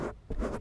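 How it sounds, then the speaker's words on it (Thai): Fingers scratching directly on a Zoom H1 handheld recorder's microphone, two brief, close, rough scraping bursts in quick succession. "เดี๋ยวเกาไมให้ฟัง"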